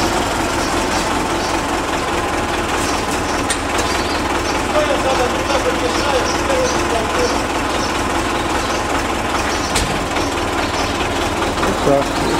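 A Belarus tractor idles at a storage yard in a steady, continuous drone. A few knocks sound over the engine, and someone talks nearby.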